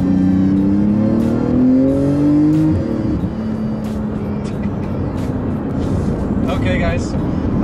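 A 2019 Porsche 911 GT2 RS engine revs up loudly and shifts before 4,000 RPM, the rising drone dropping abruptly at the gear change, then carrying on as a rough, steady pull.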